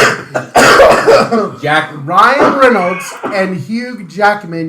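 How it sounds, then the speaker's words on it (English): A person coughs in a loud, harsh burst near the start, with people talking and chuckling around it at close range. "you coughing man."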